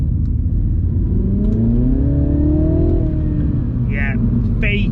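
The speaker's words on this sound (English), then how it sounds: "the engine sounds piped through the speakers, and it sounds very fake, synthesized, digital, and awful" A synthesized engine hum piped through a Mini John Cooper Works's speakers rises and falls in smooth pitch sweeps, with an artificial whirring quality; a few brief voice-like chirps near the end.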